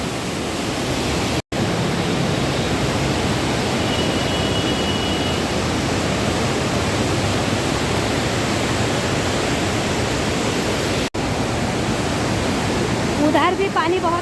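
Fast-flowing Ganges river water at Haridwar rushes as a steady, loud, unbroken roar for the whole stretch, with no voices heard.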